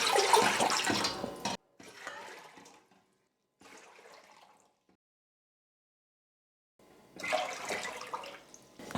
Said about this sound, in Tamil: ரவை எடுத்த அதே கப்பில் 8 கப் அளவுக்கு நான் தண்ணி சேர்த்துக்க போகிறேன்.